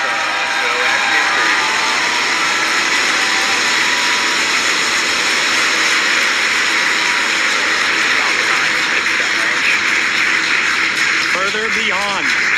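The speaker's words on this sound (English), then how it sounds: "Ignition, engine full power, and liftoff." Axiom AX3 rocket lifting off at ignition and full engine power, a continuous broadband roar that holds loud and steady throughout with no gaps.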